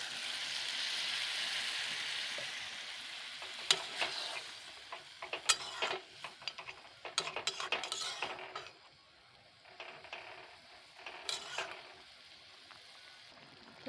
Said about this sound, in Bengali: এখন আমি একেবারে ঝোল দিয়ে দিই।